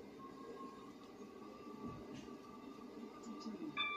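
A Class 171 train rumbles steadily with a low hum and rail noise as it arrives at a station, a faint squeal rising near the end as it slows.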